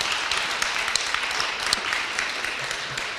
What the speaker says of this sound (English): a round of applause for our candidates, for Terence, for Cindy, for Hope, and for J